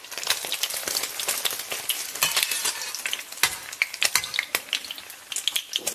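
Eggs stir-fried in a hot wok in lightly smoking oil, a dense crackling sizzle broken by rapid scraping strokes and sharp spatula clicks against the metal, close and busy throughout.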